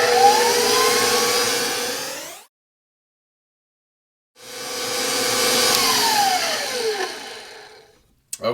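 A stand mixer works flour into cinnamon bun dough, a loud whirring hum that pitches up as it starts, cuts off into two seconds of silence, then spins up again for a second long run before stopping.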